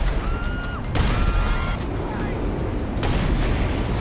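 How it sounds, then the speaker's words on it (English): Police anti-air rifle firing in GTA Online, two heavy booming shots about two seconds apart over a constant loud rumble, with tonal whines between. "Standard issue police anti-air rifle coming out."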